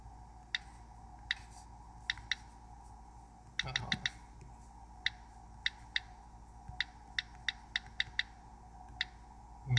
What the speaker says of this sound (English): Let's type a name out.